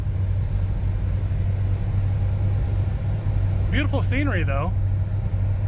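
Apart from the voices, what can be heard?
$1,000 classic car driving down steep hills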